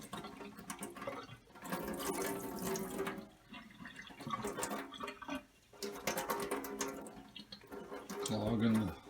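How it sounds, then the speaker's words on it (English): Water runs and splashes as sprouts in a mason jar are rinsed and drained, in bursts of pouring and trickling with short pauses between them. "And we're going to rinse them. Drain them again."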